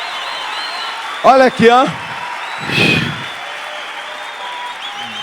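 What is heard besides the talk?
congregation applause in church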